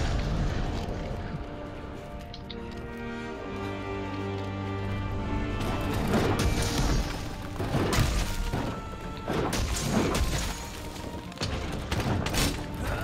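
Repeated heavy weapon strikes crash and thud against a monster's core in Monster Hunter World, loud, clustered impacts layered over dense game music and rumbling effects.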